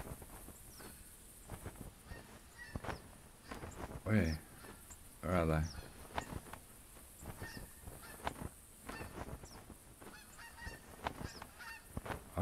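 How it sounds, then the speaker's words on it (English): Flocks of geese in The Hunter Classic hunting game give a few loud nasal honks around the middle, with fainter calls scattered before and after, while someone talks quietly over the scene. "It sounds like more geese are coming in."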